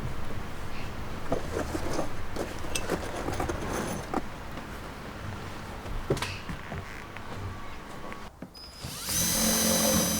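A power drill drives screws into wood while a suspended treehouse is built, with short whirring bursts spread through the clip and a louder, harsher burst near the end. There is no speech.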